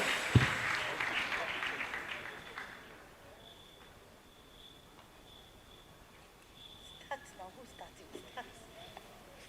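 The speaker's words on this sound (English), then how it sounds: "give them a very loud round of applause" An audience at an official Day of the African Child policy dialogue gives loud applause that begins strong and fades over a few seconds, followed by quieter scattered sounds and a voice talking.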